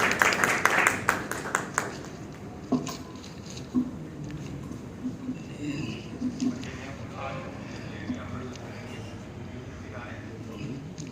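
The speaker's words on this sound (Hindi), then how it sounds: "कृपया ताली बजाकर स्वागत करें कृपया उनका" An audience claps in welcome at a ghazal memorial event for Dushyant Kumar and Jagjit Singh. The brief burst of applause at the start quickly gives way to someone speaking into a microphone.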